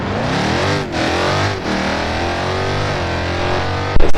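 Race car engine in a video game race start, a loud, sustained roar with rising and shifting revs throughout, ending in a brief burst of clatter.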